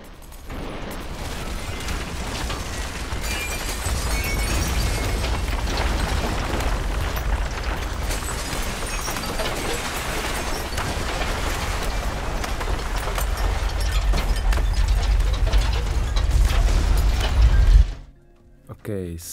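Designed earthquake rumble effect: a dense, continuous low roar with crackling debris texture, loud and sustained for about eighteen seconds before cutting off abruptly into near silence.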